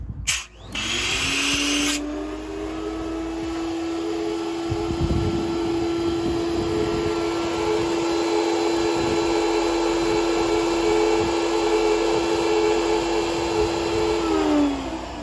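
A Graco HVLP Fine Finish paint sprayer's turbine spins up and runs with a loud, steady whine that holds continuously nearly the whole time before easing off at the very end.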